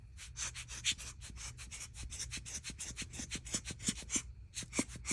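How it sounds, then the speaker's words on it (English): A small handheld blower tool pushing ink across a card makes a steady, quiet, fluttering rush of air with rapid rhythmic pulses throughout. "I'm going to grab my little blower tool here and get that to move around."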